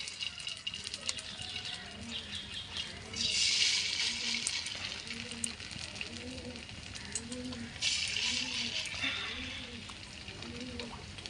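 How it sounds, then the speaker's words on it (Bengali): Pumpkin flower fritters fry in white oil in a wok, a steady broadband sizzle with brighter bursts as batter goes in, while a voice talks over the cooking throughout. "এবার এগুলো আমি কুমড়ো ফুলের বড়াগুলো এরকম বড়ার আকারে ভেজে নেবো"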